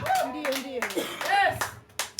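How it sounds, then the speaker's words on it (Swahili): A church congregation claps for Jehovah in short bursts as a preacher's voice carries over the top. "Weka makofi kwa Jehova"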